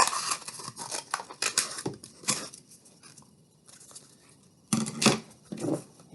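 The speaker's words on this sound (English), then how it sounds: "For the toilet paper roll, I used a paper towel roll, so I'm going to cut this in half." Scissors snipping through a cardboard paper towel roll to cut it in half, several quick crisp cuts in a cluster, a pause, then a few more close snips.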